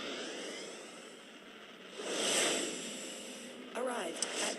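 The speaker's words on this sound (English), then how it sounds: "Starting warp engine." A spaceship's warp engine in the space game Second Galaxy builds as a steady, airy whoosh that swells to a louder surge midway, with a brief whirring flourish near the end and faint talk beneath.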